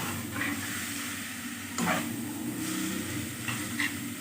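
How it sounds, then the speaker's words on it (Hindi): Guar beans with spices are stirred in a hot pan, with a soft continuous sizzle and a few scraping strokes of the spoon at close range. "बस इसे अच्छी तरह मिक्स करें"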